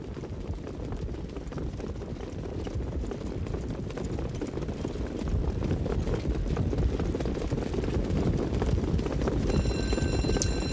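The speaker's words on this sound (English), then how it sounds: "Born Storyteller flashes speed, and from between horses Tarport Air in the early mix, three wide as they battle around the first turn" Harness racing horses pacing on the track at the Meadowlands during a 3-year-old filly pace, their hooves clip-clopping in a dense continuous rush, steady and fairly loud throughout, growing slightly louder past the midpoint.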